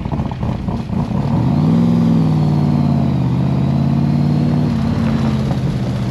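AC Cobra sports car engine heard from inside while driving, a loud steady low rumble with a rising rev around the second mark, then sustained throbbing drone.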